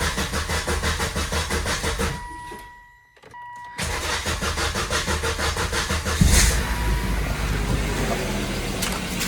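A car engine running, dropping away briefly, then cranking and catching into a steady, even idle, loud and close, after a faulty part was replaced.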